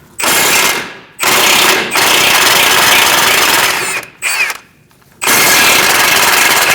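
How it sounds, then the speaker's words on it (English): Impact wrench with a 17mm socket spinning off steering knuckle nuts on a 2002-2006 Toyota Camry during front hub replacement, loud close bursts: one short rattle, then a long sustained run, a brief pause, a short burst and another long run. "Using a 17mm socket, we're going to remove these nuts."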